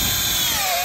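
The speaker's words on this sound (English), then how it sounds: "If you drill a hole down into the stump" A power drill whirs steadily at close range as it bores a hole down into a tree stump in a yard, one continuous high-pitched drone.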